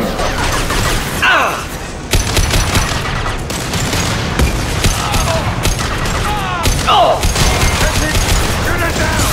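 Rapid gunfire and blasts in the video game Mass Effect, dense and loud throughout with repeated sharp shots, alongside shouted voices.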